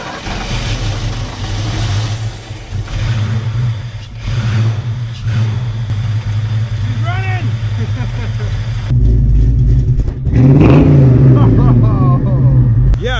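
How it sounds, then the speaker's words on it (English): Ford Mustang Fox Body engine cranking and catching, then running and revving in loud rising surges close by, with people talking over it and the engine note swelling sharply toward the end. "try to start the car up and actually get the car running"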